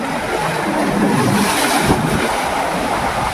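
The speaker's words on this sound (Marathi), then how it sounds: "लाटा बघा काय मारतात एकदम" Sea waves crash against rocks on the coast at Kodara in Shrivardhan, producing a loud, continuous churning roar mixed with wind buffeting the microphone.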